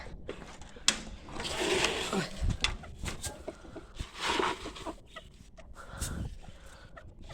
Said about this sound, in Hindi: तो हमारे माशाल्लाह शौक शौक से खाते हैं हमारे मुर्गे